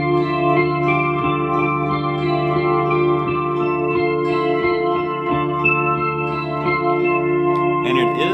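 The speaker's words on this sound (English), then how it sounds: "So tone wheel is the first sound." Guitar played through an organ machine pedal on its tone wheel setting, giving a steady, sustained organ-like chord tone with soft repeated attacks that rings loud and continuous throughout.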